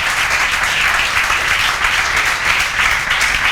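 A classroom of students applauds a classmate during a trigonometry lesson, dense continuous clapping that holds at an even level throughout.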